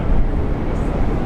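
An airliner takes off from Brisbane Airport, a steady broadband jet roar heavy in the low end, loud and unbroken for the whole moment.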